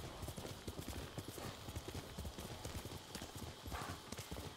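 Horse hooves clip-clopping at a steady trotting rhythm in the video game Ghost of Tsushima, quiet and even throughout, with a faint neigh mixed in among the footfalls.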